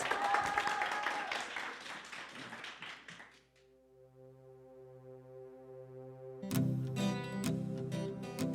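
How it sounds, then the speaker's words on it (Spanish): Applause breaks out at a live Spanish-language stage event, with claps and cheering for a few seconds before sustained musical tones take over, then sharp percussive hits come in alongside the music. "El aplauso para Roy Aguado, que está aquí en tus ciudades."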